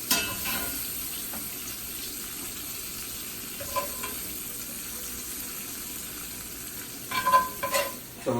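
Beef cubes sear in a hot pan with a steady, soft sizzle, broken by a few sharper crackles and bumps near the end as the meat is stirred or moved.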